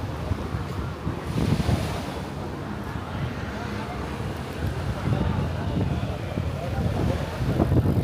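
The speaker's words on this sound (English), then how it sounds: "There we have the beach." Ocean waves on the beach at Can Pastilla, Majorca, washing in with soft recurring surges under heavy wind buffeting on the microphone, moderately loud and unbroken for about eight seconds.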